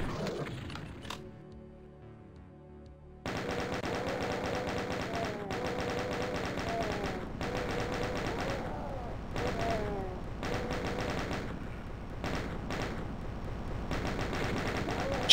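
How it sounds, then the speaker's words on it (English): Chaingun barrage in the video game Doom on the Underground Barrage map, a sustained rapid stream of gunfire with short breaks, loud and close, layered over game music and effects after a quieter opening. "Chain gun barrage on the side was fucking disgusting."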